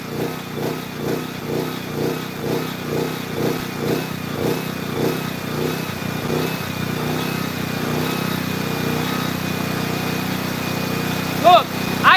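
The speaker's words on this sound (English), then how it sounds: "Turned on 2 and the generator's not sounding good." A generator running on fuel made from plastic runs roughly and loudly, with a pulsing, uneven thump for the first half that settles into a steadier drone, a faint whine above it.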